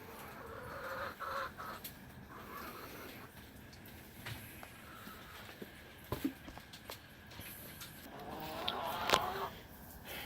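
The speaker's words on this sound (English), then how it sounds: "these chickens are all lined up to get in the nesting box to lay their eggs" Hens waiting to lay in a nesting box cluck softly and intermittently, with some scratching and shuffling nearby in a quiet barn-like space.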